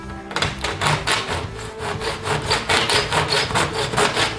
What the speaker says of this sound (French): Alors on va essayer avec la scie normale.